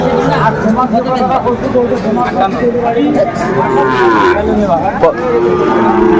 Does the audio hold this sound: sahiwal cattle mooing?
yes